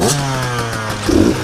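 Enduro dirt bike engines drone loudly at a race start line, with a steady buzzing tone and a brief rise as one rider revs near the end.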